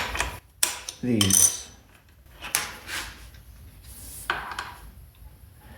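Fly press striking 1/8 inch copper rivets to form their heads, giving a few sharp metallic clanks and thuds spread across a quiet workshop, with one brief spoken word.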